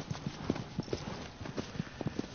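A horse in the video game Shadow of the Colossus trots with steady, close clip-clop hoofbeats, landing in a quick, even rhythm over a soft game background.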